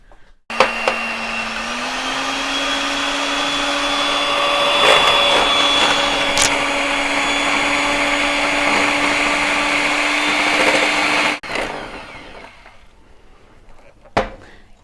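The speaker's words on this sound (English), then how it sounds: "first of all I'm going to whisk the egg whites and just get a little bit of froth in them" Electric whisk frothing egg whites in a bowl, a steady high motor whine running continuously for about ten seconds before cutting off, followed by a brief clatter.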